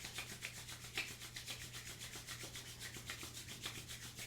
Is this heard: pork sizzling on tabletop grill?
no